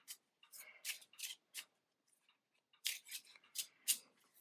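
Quiet, crisp bursts of tarot-style gossip cards being shuffled, in two clusters separated by a short pause.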